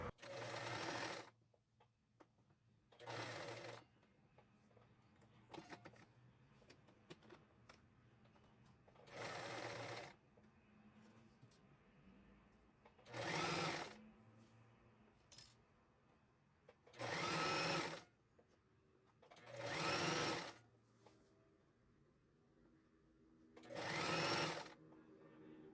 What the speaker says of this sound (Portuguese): passar a costura de fora a fora